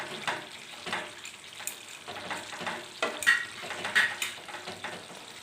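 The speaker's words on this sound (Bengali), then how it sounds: "দুটো চেরা কাঁচা লঙ্কা আর একটু গরম মশলার গুঁড়ো দিয়ে হালকা হাতে একটু নাড়াচাড়া করে" Cauliflower and potato curry with slit green chillies and garam masala is gently stirred in a sizzling pan, with repeated soft scraping strokes over constant frying hiss, up close.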